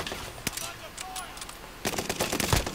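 Gunfire in the video game Warzone, with a sharp single shot early followed after a pause by a rapid burst of loud cracking shots, a voice talking faintly in the background.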